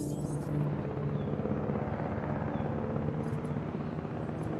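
A helicopter in the video game Jurassic World: Evolution drones with a steady, continuous rotor rumble, loud and close throughout without pause.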